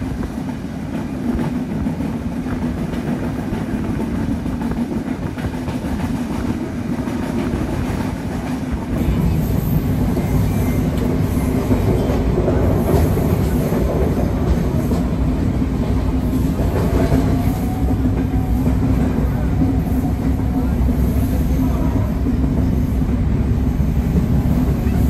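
Train on the Dhaka–Khulna route running straight through Mouchak station without stopping, heard from aboard: a constant loud rumble and rattle that swells noticeably partway through and stays heavy to the end, with no talking.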